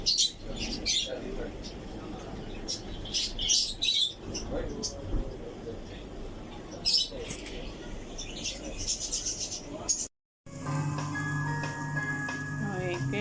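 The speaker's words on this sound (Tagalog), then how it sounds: "Okay, may huni ng ibon kanina." Busy outdoor market ambience with repeated high bird chirps and tweets scattered throughout, mixed with crowd murmur and bustle, ending in a brief gap then steady hum.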